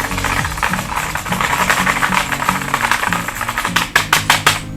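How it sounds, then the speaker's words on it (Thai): Rapid, uneven clacking of keys typed on a Philips gaming mechanical keyboard, close up, with a few louder, sharper strokes near the end. "เวลาพิมพ์นะครับจะมีเสียงประมาณนี้นะ"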